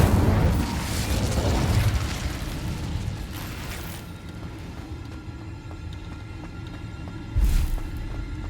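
Incendio fire spell cast in the Hogwarts Legacy video game: a loud whooshing burst of flame that fades into a steady rumble, with a second sharp blast near the end.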